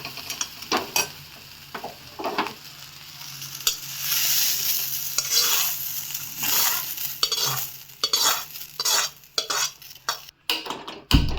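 Cluster beans roasting in a hot pan with a soft, uneven sizzle, interrupted by scraping stirs and light metallic clinks of a spoon against the pan.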